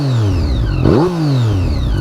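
Triumph Street Triple motorcycle engine revving with strong induction noise, a loud close droning note that drops, then climbs sharply and falls back again in a single rev, with no talk.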